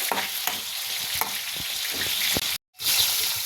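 Chicken lollipop mix with chili paste being sautéed on a high flame: a loud, steady sizzle runs throughout, with a spatula scraping and stirring in repeated strokes and one brief cut to silence near the end.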